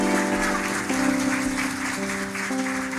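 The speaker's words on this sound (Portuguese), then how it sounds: "aplauda o Senhor pela vida da Luísa." Clapping from a church congregation during a Lord's Supper worship service, a dense, steady wash of applause lasting throughout, mixed with sustained musical tones underneath.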